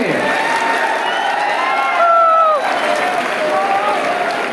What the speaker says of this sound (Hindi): बहुत ही शानदार, लेकिन तालियों की आवाज कम है।